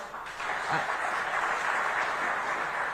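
Audience at a Web3 industry event in Indore claps in a diffuse, moderately dense applause that carries steadily throughout.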